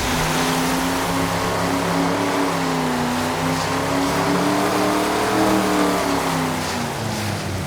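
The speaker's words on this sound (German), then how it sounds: "Geil, der Motorboot." A motorboat in the open-world action game Just Cause 2 drones with a loud, steady engine note that rises and falls slightly, with rushing water beneath, continuous and close with no talking.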